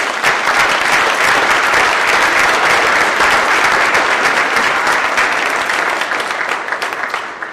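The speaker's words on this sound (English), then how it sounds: "Let's give him a round of applause." A banquet audience at a university Hall of Fame event applauds in a dense, sustained round of clapping that slowly tapers near the end.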